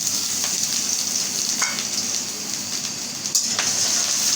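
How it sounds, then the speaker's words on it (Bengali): Onions fry in a pan after whole garam masala, a steady close sizzle with a few brief stirring clinks, no talk. "পেঁয়াজটা আমি লাল করে ভাজিয়ে নেব"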